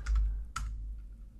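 A few quick keystrokes clatter on a computer keyboard during a blackjack game program, with two or three close, crisp clicks over a low background hum.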